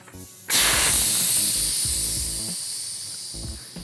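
Air rushes out of a Schrader tubeless tire valve with the core removed: a sudden loud hiss that bursts on and then slowly fades, with faint clicks and handling noises before and under it.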